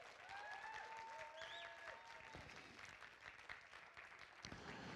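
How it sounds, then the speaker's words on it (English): Applause from an audience gathered in a church tent, a steady broadband patter of many hands at a moderate, slightly distant level, with faint voices and a few tonal calls or whistles riding over the clapping. "clap your hands like you believe it"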